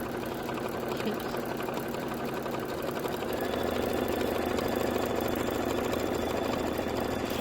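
A home sewing machine runs a quilting stitch on a table topper with a continuous, fast mechanical hum that grows a little louder midway. Quiet talk may sit underneath.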